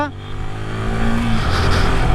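A Yamaha R15 V3 motorcycle engine is revved hard, rising from a low idle into a loud, sustained, strained pitch that holds steady close by.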